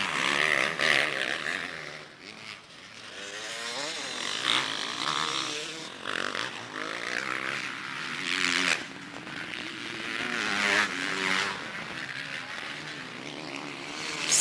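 KTM 250 two-stroke motocross bike racing, a high-pitched revving engine that rises and falls through gear changes, heard at a moderate distance with varying loudness and no speech.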